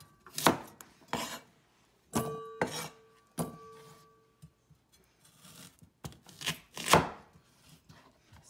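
Carrots being chopped with a knife on a cutting board for radish spare ribs, heard as several sharp, close knocks arriving in irregular bursts with short quiet gaps between them.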